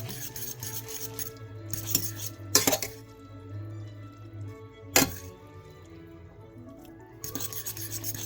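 Utensil scraping and rubbing inside a pot while stirring Paldo jjajang instant noodles, with rasping strokes and a few sharp metallic clinks against the rim, close and fairly quiet over a steady low hum.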